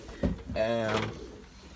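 A racing pigeon gives one close, throaty coo with a short lead-in note, with a faint voice nearby.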